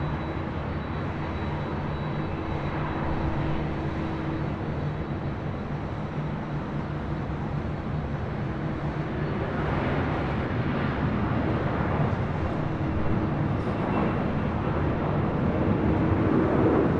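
A Delta heavy jet rolls for takeoff on runway 24 left at LAX, a steady, loud, broad engine roar that swells slightly in the second half and runs on without talk.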